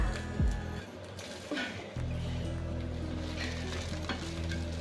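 Sandwich bread toasting in a hot pan over a lowered gas flame, with a steady soft sizzle and light scraping from a spatula as the bread is flipped.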